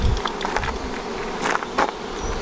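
Honeybees buzz close by during a hive transfer, several passing bees giving brief louder swells over a soft, continuous hum.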